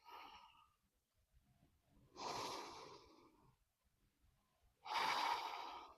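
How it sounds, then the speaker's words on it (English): Slow, deep breaths during a yoga core exercise: two long, airy exhalations a few seconds apart, close and soft in a quiet room, with no talking. "Let's take 3 breaths here."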